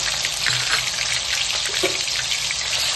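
Garlic paste frying in hot oil with black cumin, a steady, bright crackling sizzle with scattered pops, even and continuous throughout.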